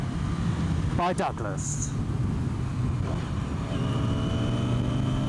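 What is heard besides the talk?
Renault Scenic car being driven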